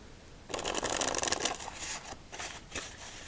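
A deck of playing cards is riffle-shuffled up close in a quiet room: a dense, crisp flutter of cards lasting about a second, then a few softer bridging and tapping sounds as the deck is squared.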